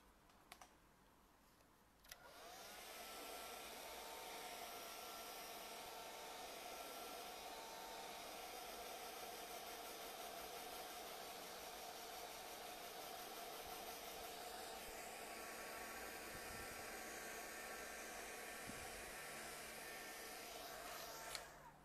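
Hair dryer blowing on a freshly painted switch plate craft piece, switching on after a brief quiet start and running in a steady loud whoosh close by until it cuts off at the end.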